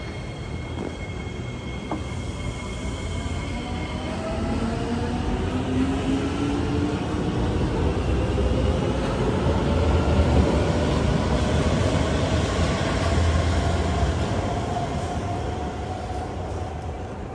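MRT train departing on Singapore's North South Line, a steady rumble of wheels on rail with rising motor whines and metallic squeals that build and hold loud as it pulls away.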